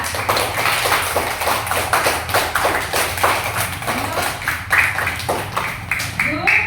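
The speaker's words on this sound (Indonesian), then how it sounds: "tepuk tangan kepada kelompok 2" A classroom of pupils applauds a group, producing a rapid rhythmic patter of claps nearby, with voices mixed in beneath the clapping.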